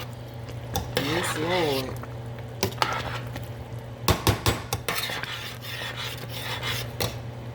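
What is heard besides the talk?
stirring seasoning into chicken and dumplings in a pot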